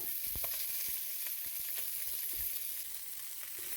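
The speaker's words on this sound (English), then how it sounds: "we're going to start turning them so they start searing on all sides" Bratwursts searing in a pot, giving a continuous bright sizzle with scattered low thumps and clicks as they are turned, steady and close with no talking.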